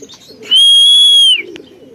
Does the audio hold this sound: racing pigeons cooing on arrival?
yes